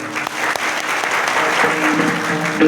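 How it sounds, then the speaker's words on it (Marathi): Audience applause at a Marathi kirtan honoring the singers and musicians, a loud, steady wash of clapping from a crowd that continues throughout, with faint voices beneath. "गायक वादक मंडळींच्या करता जोरदार टाळ्या वाजवा."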